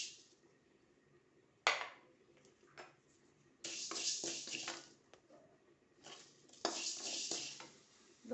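Whole coriander seeds tipped into a dry pan for roasting a spice masala, giving scattered clattering rattles and pan knocks in a few bursts, fairly close, with no one talking.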